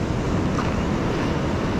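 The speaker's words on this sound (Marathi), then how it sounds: "हा असा पावसातला समुद्र आहे" Steady, loud roar of surf, wind and rain, a constant rushing wash of monsoon sea waves with no voices.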